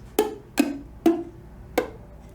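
Four separate plucks of a ukulele string with a badly fretted note, each a short buzzing twang that dies away quickly, spaced about half a second apart, close and fairly quiet.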